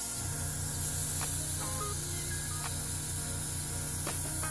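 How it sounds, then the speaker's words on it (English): A spray gun lays glitter paint onto a model horse in a steady, close hiss that runs without a break. A low rhythmic mechanical pulse sits underneath. "Get our gun loaded up, and you are going to lightly, cannot stress this enough, lightly spray."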